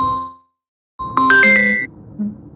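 A phone rings during a livestream: a short chime fades out, then after a pause a bright, tinkling ringtone melody plays a few clear notes, with no talking.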